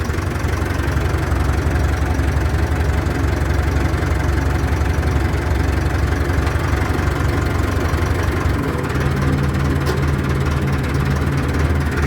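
A Massey Ferguson 265 tractor diesel runs loud and close with a steady knocking rumble while the clutch is eased out slowly, and the engine note deepens and labours toward the end.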